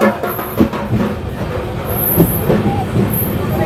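Sairang–Kolkata Express rolling through Berhampur Court station, with a steady rumble and clatter of rail cars close by, overlaid by a busy station crowd.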